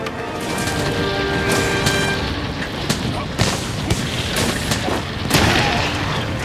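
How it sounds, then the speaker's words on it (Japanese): Dense, continuous action in Monster Hunter: World during the Zorah Magdaros capture mission, with repeated booming explosions and sharp crashing impacts, loud and chaotic, with a voice occasionally heard underneath. "上まで全部爆発しよったな。"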